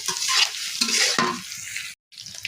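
Chopped onion, bay leaves, cinnamon and green chillies frying in oil in a pan, a loud close sizzle with stirring scrapes in bursts, cut by a brief silence near the end.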